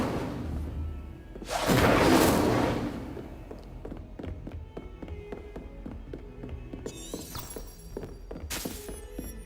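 Incendio fire spell cast in the game Hogwarts Legacy: a sudden loud whooshing burst of flame that swells and fades over about a second, over a steady game background with small taps and a later bright crackling flare.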